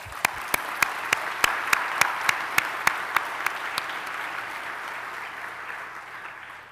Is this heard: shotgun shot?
no